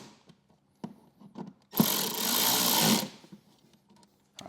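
A power driver tightens bracket screws on the lid of a Harley CVO Street Glide, one continuous whirring burst of about a second amid quiet handling clicks and taps.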